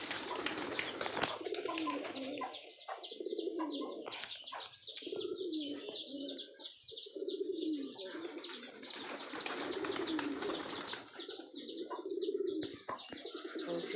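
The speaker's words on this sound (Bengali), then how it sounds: "এখন আমরা সব পায়রাগুলো বেরিয়ে গেছে।" Pigeons cooing steadily at close range, with chirps and bursts of wing flapping as the flock leaves its coop, continuing throughout without talk.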